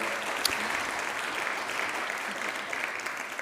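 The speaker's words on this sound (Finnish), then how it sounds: "Annetaan isot aplodit meidän panelisteille." An audience applauds panelists at the close of a housing-market brunch panel discussion, steady dense clapping filling the room throughout with a few sharper claps standing out, a faint voice or two underneath.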